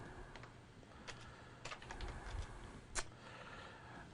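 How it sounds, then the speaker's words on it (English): Someone types on a computer keyboard in short, uneven bursts of soft, close key clicks, with one sharper tap near the end. "Slide info is going to give us things like the caption. I can actually type in there"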